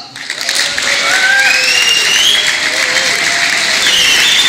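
Loud crowd applause fills a hall at a carnival society session, a thick wash of clapping with whistles or horns gliding over it.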